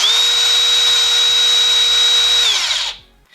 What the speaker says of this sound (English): you can definitely hear that soft start